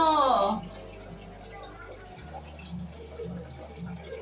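Water runs quietly from a tap, opened a little further, in the background while a person speaks briefly at the start.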